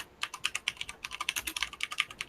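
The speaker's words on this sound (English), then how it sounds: "You can all listen to me typing, can't you? Yeah, well, that's a mechanical keyboard." Fast typing on a mechanical computer keyboard, a steady run of crisp, close clicks and clacks heard on their own with no voice over them.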